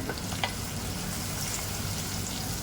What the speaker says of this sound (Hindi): यहाँ पे देखें प्याज लाल हो रही है